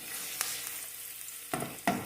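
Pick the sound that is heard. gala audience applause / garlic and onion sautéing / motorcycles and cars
garlic and onion sautéing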